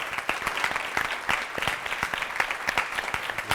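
A modest student audience claps for a panel, with individual claps standing out as a loose, fairly close patter that runs steadily the whole time.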